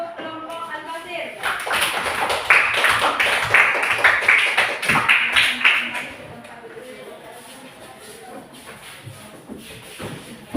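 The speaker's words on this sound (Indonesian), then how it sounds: "Tepuk tangan untuk kelompok Al-Basir." A class claps for a student discussion group after their presentation, a burst of scattered hand claps mixed with shuffling and murmuring that fades away after about six seconds.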